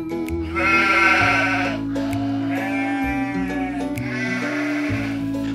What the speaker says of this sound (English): I'm glad those sheep wanted to go home and help Farmer Fred.